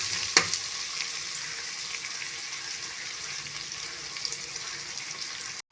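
Ginger garlic paste sizzles and fries in a pan while being stirred, a steady bright hiss with a sharp clatter near the start, then cut off abruptly.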